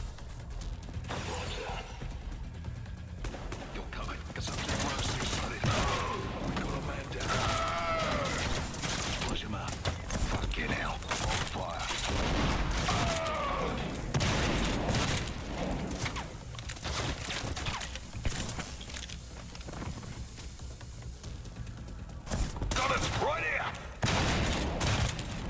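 Shotgun blasts in the retro-style FPS Trepang2, firing repeatedly amid dense combat noise, explosions and shattering debris, loud and close, with someone talking over the action.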